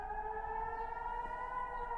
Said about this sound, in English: So you can hear the sirens in the background,